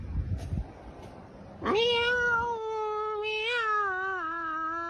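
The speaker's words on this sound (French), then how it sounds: "Et là, c'est un chat." A cat lets out a long, drawn-out meow close by, loud and wavering, after a moment of faint background noise.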